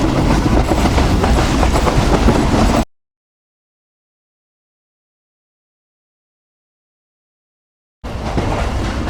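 Pak Business Express passenger train running from Karachi to Lahore, loud steady rumble and clickety-clack of carriages on the rails, cut off by a long silent gap before the same running noise resumes near the end.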